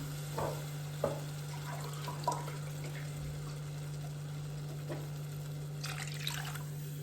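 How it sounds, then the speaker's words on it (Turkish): Milk pours into a sizzling roux in a béchamel pot, a close liquid splash and gurgle over a faint hiss, with a few soft knocks of the pot and utensil. "Hemen sütümü ilave ettim."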